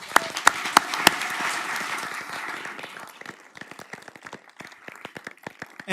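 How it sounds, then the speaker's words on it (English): Applause at a city council regular session, a room of people clapping loudly at first, then thinning into scattered individual claps that fade out. "how about a round of applause for Steve for..."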